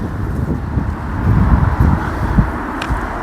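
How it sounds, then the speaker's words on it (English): Gusty wind buffeting the microphone beside the water at a pike fishing spot, a low rumbling roar that swells and dips in irregular gusts, close and fairly loud, with no talking. "it's a bit gusty"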